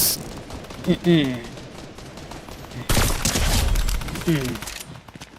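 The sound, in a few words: gunfire in the video game Fortnite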